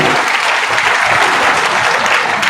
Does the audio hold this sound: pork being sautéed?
no